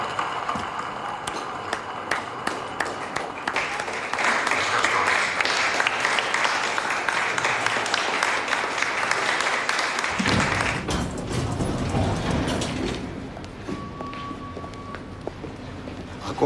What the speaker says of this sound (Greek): Ακόμα ακούω τα χειροκροτήματα.